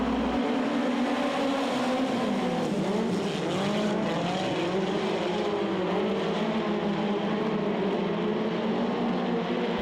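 Midget race cars roar together as the green flag drops for the fifth and final heat. The engines wail steadily and loudly, with shifting overlapping pitches as the pack accelerates around the track, and no voice is heard.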